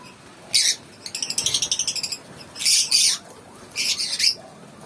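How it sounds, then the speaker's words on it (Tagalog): Shrill lovebird chirps and squawks come in bursts, with a rapid run of repeated tweets in the middle, close by with no talking. "Pinapanood ko yung mga ibon ko."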